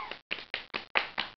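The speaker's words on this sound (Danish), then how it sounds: "giv hende lige en klapsalve, alle sammen" A crowd claps in applause for Annette, broken into six short, loud bursts of clapping with brief gaps between them, close by and with no talking.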